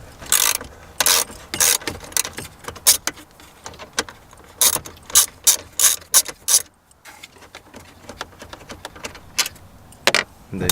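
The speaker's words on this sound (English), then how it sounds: "So all you need is a 10mm wrench." A 10mm ratchet wrench loosens a bolt while a double-DIN stereo is removed from a 2013–2018 Toyota RAV4, rapid rasping clicks in repeated short bursts up close, separated by brief pauses.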